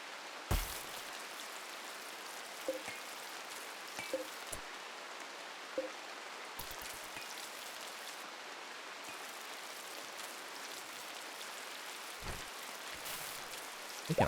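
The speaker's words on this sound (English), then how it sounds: "Ooh, rain." Steady hiss of rain from the video game RimWorld, a dense, even wash of falling drops that holds at moderate level for the whole stretch, broken by a few soft clicks and brief louder ticks.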